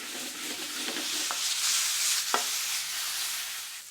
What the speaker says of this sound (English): Next, add the green chili to the pan and mix the ingredients together.